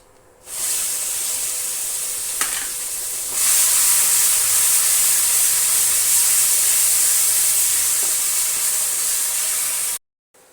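A paste of roasted onion, garlic and tomato hits a hot pan with cumin, bursting into a loud, steady hiss that holds strong and close for several seconds, briefly intensifying, then cutting off abruptly.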